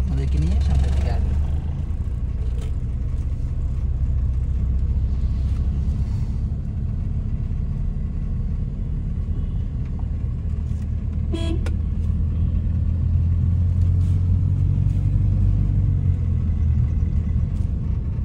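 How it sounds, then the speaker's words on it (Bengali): A car pulls away on a highway as the brake is eased off and the accelerator pressed, its engine a steady low rumble throughout, with a short horn toot near the middle and faint voices underneath. "আমরা এই যে এখন আস্তে আস্তে ব্রেক ছাড়তেছি এবং অ্যাক্সেলেটরে পা দিচ্ছি"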